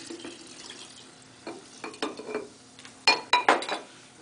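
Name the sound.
stirring drink mixture of rum and Sprite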